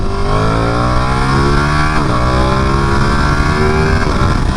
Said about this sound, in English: Nothing in the world sounds like a Ducati V-twin